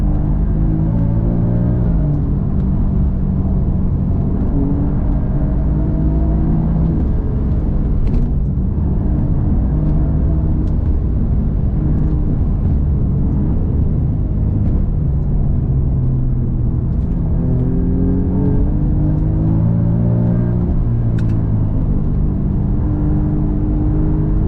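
An Alfa Romeo Giulia Quadrifoglio drives on the road, its engine rumbling loud and continuous from inside the cabin, with pitch rising and falling as it accelerates and shifts.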